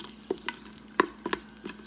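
Whole spices sizzle and crackle as they heat in an Instant Pot for crab curry, giving a few soft, scattered pops and stirring scrapes at low volume.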